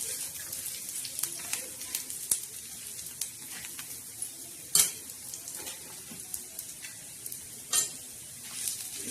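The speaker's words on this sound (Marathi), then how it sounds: "आता हा असा भाजायचा, खरपूस आणि खमंग असा मस्त भाजायचा" Black masala spices dry-roasting in a pan for a spicy chicken dish, with a soft steady crackle and sizzle broken by scattered scraping clicks of a spoon stirring against the metal, close and fairly quiet.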